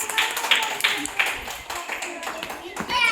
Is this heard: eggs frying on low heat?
no